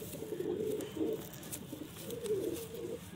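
A Madrasi pigeon, a female, coos in low repeated phrases, with two clear bursts of soft throaty calls over a steady background hum.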